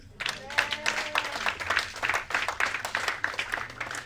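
A church congregation claps in a steady rhythm, with singing and voices carrying over the claps throughout.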